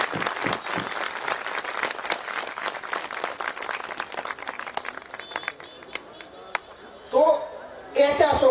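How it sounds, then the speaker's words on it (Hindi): An audience at Latiya Mahotsav 2025 claps in a dense, crackling burst that gradually thins to scattered claps, followed by a voice speaking briefly at the end. "उनके लिए जोरदार ताली आप लोगों को।"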